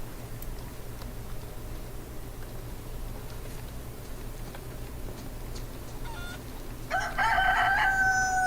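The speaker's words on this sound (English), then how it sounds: "I don't like those damned roosters, man. They completely give away your position" Roosters crowing in the video game DayZ, one loud near crow rising sharply near the end over a steady low outdoor ambience and faint rustling.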